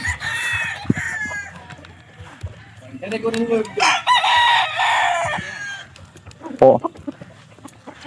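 Roosters crow and cluck nearby, with a loud crow in the middle and a brief spoken word amid farmyard background noise.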